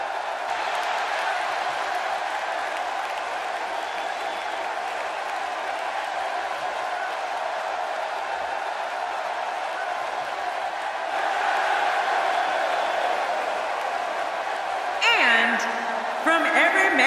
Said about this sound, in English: Just listen to this capacity crowd on their feet